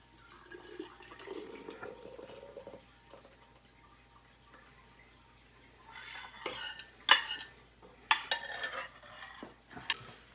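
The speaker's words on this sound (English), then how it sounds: "And I'll pour the rest in the other jar here." Hot homemade blackberry jelly is poured into a glass jar, a thin liquid stream running for a few seconds, then followed by light clinks and taps of utensils and glass close by.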